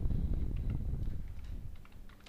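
Rapid, close keystrokes on a computer keyboard while someone types an Oracle SQL query. The clicks are dense and uneven, with no voice over them.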